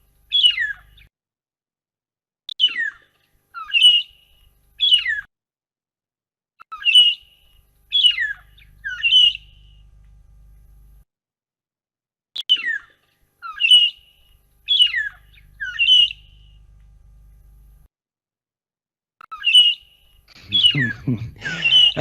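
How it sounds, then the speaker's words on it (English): Buffalo weaver calls in the wild: repeated bursts of sharp, rising squeaky chirps in clusters of three or four, separated by short pauses, fairly near and clear, with a low rumble under some phrases and a brief rustle at the end. "So those are buffalo weavers"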